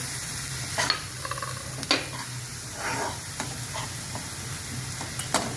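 Vegetables sauté with salt in a pan under a soft, continuous sizzle, broken by several sharp scrapes and clicks of a spatula stirring against the pan.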